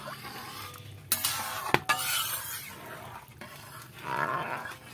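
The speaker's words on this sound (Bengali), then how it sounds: "নেড়ে দেব।" Soaked rice being stirred into a pot of boiling water, with a few clinks of a spoon against the pot and a soft bubbling, scraping swish, fairly quiet and close.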